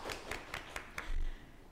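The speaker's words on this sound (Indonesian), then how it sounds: "kasih tepuk tangan" Scattered hand claps from a small studio audience at a law faculty podcast, five or six distinct claps in an uneven rhythm, fairly faint and close, with a low thump near the end.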